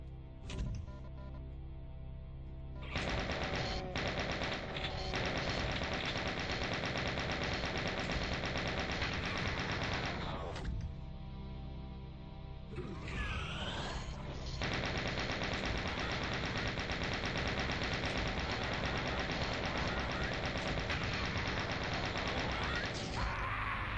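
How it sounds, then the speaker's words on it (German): Sustained rapid machine gun fire from the video game Doom II, loud and continuous for most of the stretch with a brief break, alone without talk. "Ein Schuss hier."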